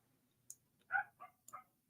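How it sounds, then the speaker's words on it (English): A dog barks in a short burst of three or four sharp barks, moderately close but fairly quiet, with brief clicks and a quiet background and no talking. "Excuse the dog barking."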